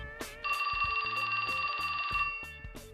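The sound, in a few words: mobile phone ringing in video game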